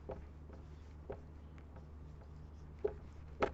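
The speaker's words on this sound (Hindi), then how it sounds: "उसकी जगह लिखेंगे गजधराः" A hand writes Sanskrit words on paper, quiet scratchy pen strokes and taps scattered irregularly over a low background hum, with a couple of sharper contacts near the end.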